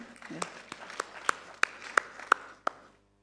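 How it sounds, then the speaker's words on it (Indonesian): An audience at a business presentation gives a short, faint round of applause: a handful of evenly spaced claps that stop after about three seconds. "tepuk tangan buat Indomaret."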